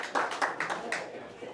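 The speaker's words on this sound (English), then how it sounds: "Give a nice round of applause for Robbie Lawrence" A short burst of clapping from a tavern audience at a live polka night, a few distinct claps at close range, blended with talk.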